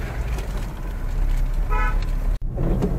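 Big truck squeezing along a narrow mountain road in the Urgam valley, Uttarakhand, sounding a short bright horn toot over rumbling engine and road noise, heard from close by.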